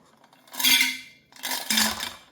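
Ice being stirred in a container for a thermocouple experiment. Two close bursts of rattling, clinking ice against the vessel are separated by a brief pause, loud and without any talking.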